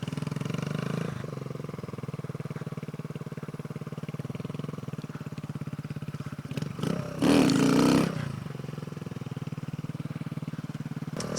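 Honda Z125 motorcycle fitted with an aftermarket exhaust and airbox, its engine running steadily with a loud, sharp rev burst near the end before settling back to a rumbling idle.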